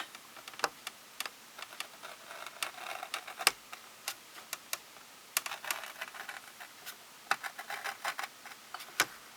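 Quiet, sharp plastic snips and clicks from cutting parts of a 1:350 plastic model kit off the sprue, irregular single ticks spaced apart with brief clustered bursts.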